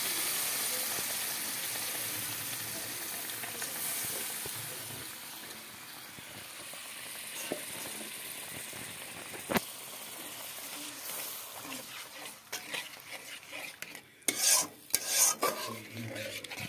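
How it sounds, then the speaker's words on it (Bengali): Gravy poured over fried spices in a pan, a continuous wet rasping stir and sizzle, with louder clattering scrapes toward the end. "মশলা কষানো হয়ে গেল, এখন একটু ঝোল দিয়ে দিলাম।"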